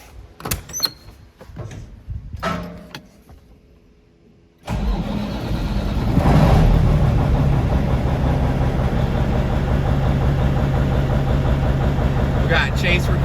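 A misfiring Kenworth truck engine with its cover off starts up after a few knocks and clatters, then runs loud and close with a steady rumbling idle and an uneven, chugging pulse.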